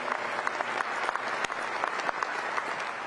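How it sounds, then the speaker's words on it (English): An audience at a basketball coach's introductory press conference gives a warm round of applause, dense steady clapping filling the room at close range with no break. "just give a big round of applause"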